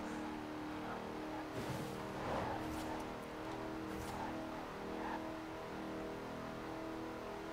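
A Ford Mustang engine drives in the racing video game Forza Horizon 4, droning steadily with revving rises and brief tire squeals, moderately loud with no talk.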